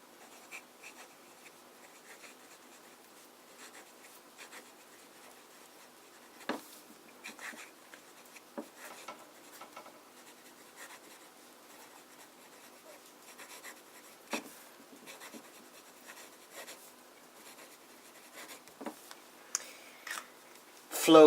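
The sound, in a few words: fountain pen writing with Edelstein Amber ink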